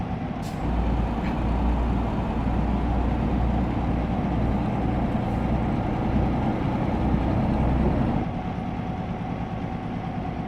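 A DAF XG+ truck with a 530 HP engine drives in a driving simulation game, a steady deep diesel drone throughout that drops slightly in level near the end, with no talk.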